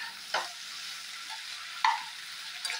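Ivy gourd sautés in a pan with a low, steady sizzle, broken by three distinct scraping stir strokes spaced across the clip, close and fairly quiet, with no speech.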